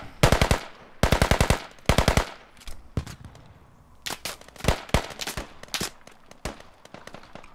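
A machine gun in a video game fires in short rapid bursts, three clipped volleys close together followed by scattered single shots and more distant fire, loud and without talk.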